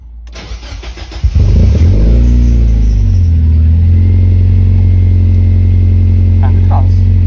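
Mazda Miata NB engine on a standalone ECU cranking briefly, catching and starting loudly, then settling into a steady close idle; a voice talks faintly early on.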